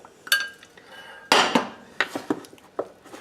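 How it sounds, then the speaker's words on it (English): A spatula stirs homemade toothpaste in a bowl, giving a few sharp close clinks and scrapes spaced out among quiet gaps. "And I'm going to mix it in with my spatula."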